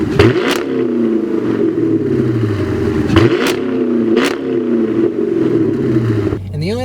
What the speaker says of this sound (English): let's hear that Borla exhaust a little bit